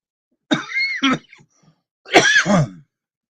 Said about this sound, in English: I do got a cough.